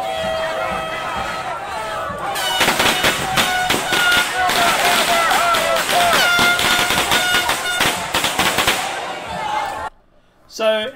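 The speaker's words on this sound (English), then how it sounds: "that was illegal fireworks" Illegal consumer fireworks crackle and bang in rapid, loud bursts amid a street riot in Portland, with crowd noise and shouting voices underneath, before cutting to near silence.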